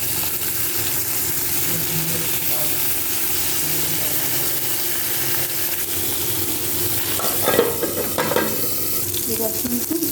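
Bottle gourd leaf parcels wrapped around small fish fry in oil with a constant loud sizzle, joined near the end by a few stirring scrapes and clatters.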